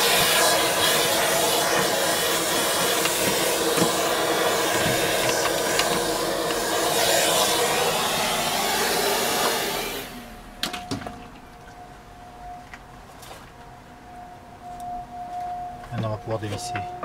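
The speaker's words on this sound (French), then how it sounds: "j'ai commencé par mettre un petit coup d'aspirateur pour éviter de faire tomber" A vacuum cleaner sucks up dust around the fuel pump of a Hyundai Santa Fe, a loud continuous roar for about ten seconds that cuts off abruptly, leaving quiet clicks and handling noises.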